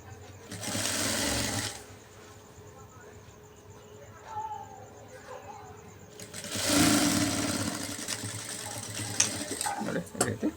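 A sewing machine stitches a quarter-inch folded hem on an embroidered blouse in two steady bursts of whirring, separated by a quieter pause with handling noises, fairly close and moderately loud.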